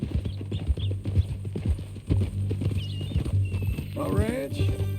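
Steady clip-clop of horse hooves walking in the video game Red Dead Redemption II, with two voices talking over it and a brief whinny near the end.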